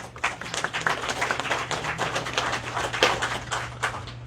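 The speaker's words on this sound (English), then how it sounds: "let's give a round of applause to every one of you." Audience applause at a devotional music gathering, a dense crackle of many hands clapping at moderate loudness throughout, with a steady low hum underneath.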